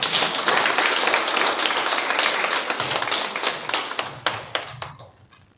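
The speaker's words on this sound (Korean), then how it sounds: "박수 보내야 되는 거 아닙니까?" An audience at a lecture on international affairs and national unification bursts into dense, loud applause that gradually thins into scattered individual claps before stopping.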